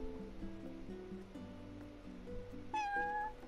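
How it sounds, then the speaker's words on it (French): A cat meows in the video game Final Fantasy XV, one clear rising call heard alone over soft background music, fairly close and loud. "Oh un chat."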